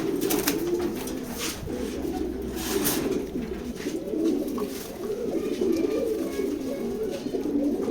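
Pigeons coo at close range in a loft, soft repeated throaty rolling calls layered over one another and continuing throughout, with occasional wing flutters and handling sounds.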